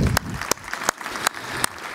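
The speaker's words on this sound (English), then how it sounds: "please be standing and join me with your applause in thanking our fantastic panel today" Applause from a seated business forum audience thanking a presidential panel, heard as a steady background wash with several sharp, regularly spaced louder claps standing out close by.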